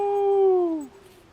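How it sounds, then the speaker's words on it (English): A single drawn-out shout echoes across a lake in the Boundary Waters, a clear tonal call that falls slightly in pitch and fades away over open water. "Nice little echo."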